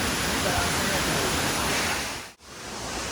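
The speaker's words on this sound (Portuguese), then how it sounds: "essa cachoeira tem uma queda de mais de 70 metros" Waterfall with a drop of more than 70 metres, heard as a loud, steady broadband roar filling the whole stretch, with a brief dip near the end.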